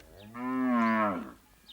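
A single long, deep moo from a cow in a Maasai village, rising and falling over about a second, close and loud against quiet surroundings.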